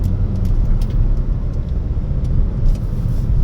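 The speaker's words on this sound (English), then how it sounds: "I'm going to show you how fast this car is around the curves." A car travelling at 60 mph around curves on a road gives a steady, loud interior rumble of engine and tyre noise, continuous throughout.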